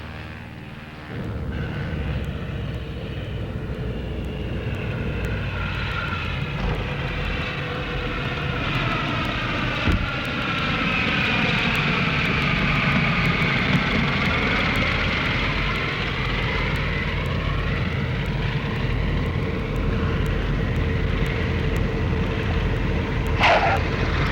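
Fixed-wing airliner, American flight, passing overhead on approach to land at an airport runway, a steady loud engine roar with a sweeping Doppler pitch shift that swells and fades over about twenty seconds, no talking.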